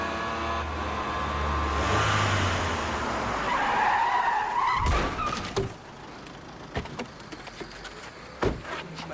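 A car engine runs and revs loudly with tire skidding noise, then cuts back to intermittent knocks and bumps with the motor quieter.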